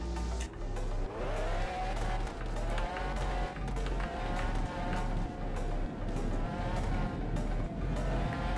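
Engine of a car driven in a Roblox racing game, a steady loud drone with a rising pitch sweep early on and a continuous low rumble with faint tire noise, carrying on without pause throughout.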